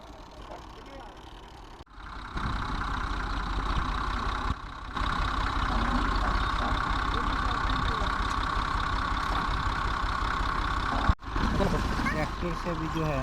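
A tractor engine runs at a fish farm while being used to pump out floodwater, a steady loud mechanical drone with a low rumble that rises in level after a short pause and then holds constant.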